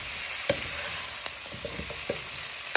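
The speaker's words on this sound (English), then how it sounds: "So you're giving them a little bit of a stir so they can add in the flavour on the bacon, onions and leeks." Bacon, onions and leeks fry in a soup pot with a soft, steady hiss. A few light scrapes and taps from the stirring spoon sound close by, and nobody talks.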